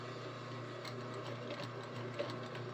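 Sewing machine running steadily while stitching a back stitch on an outfit, a close, continuous mechanical whir with fine rapid needle ticking and no talk.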